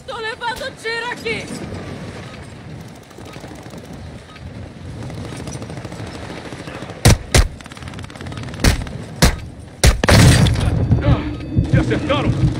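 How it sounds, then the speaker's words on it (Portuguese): Video game gunfire: after a stretch of talking and game ambience, a cluster of sharp, loud shots cracks out in quick bursts, with voices chatting before and around them. "Tô levando tiro aqui."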